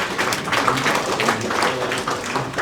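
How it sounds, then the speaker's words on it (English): An audience at a Rotary club installation ceremony applauds steadily, a dense, sustained wash of many hands clapping at close range, loud and even throughout. "Let's keep the applause going"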